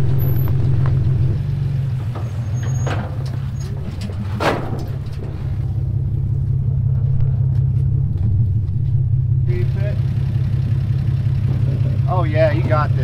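A motorhome towing a trailer crawls over extreme off-road obstacles in a bed of needles, its engine rumbling low and steady throughout, with brief knocks and people talking and cheering nearby.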